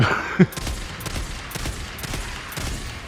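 Gunfire rattles in the video game Days Gone as freakers are shot, a dense run of rapid, loud bursts after a brief opening sound.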